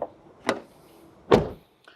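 Front door of a 2023 Toyota Vios sedan swinging shut: a soft click, then a solid, muffled thump about a second later, followed by a faint trailing rattle, heard up close.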